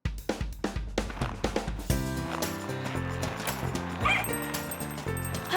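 A cartoon puppy lets out a quick run of short yipping barks and whimpers, then music swells in and carries on over the rest.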